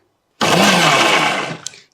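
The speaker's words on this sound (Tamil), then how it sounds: "எப்போவுமே இந்த மாதிரி இயக்கிறப்போ எடுத்தோடனே ஹை ஸ்பீடுக்கு போகாதீங்க" A kitchen blender whirs through sapodilla fruit for juice, starting abruptly at full loudness, holding a dense steady roar for about a second, then tapering off with a small clack near the end; no talking.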